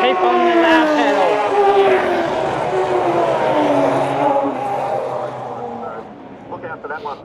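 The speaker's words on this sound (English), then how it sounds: "some cars coming through" Several Group S race cars roar past one after another at Bathurst, engine pitch sweeping down as each goes by, loud and close, fading toward the end.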